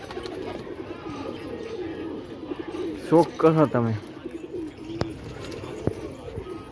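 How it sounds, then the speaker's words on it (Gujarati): Racing pigeons on a rooftop loft coo in a short burst of throaty calls after a hawk strike sends the flock into a panic, heard nearby beneath a voice. "બધા કબૂતર ભડકી ગયા"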